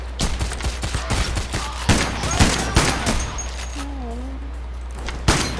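Magnum revolver shots crack out in a heist shootout in the video game PAYDAY The Heist, a run of loud, sharp reports spaced across the moment, along with other gunfire and a constant low hum.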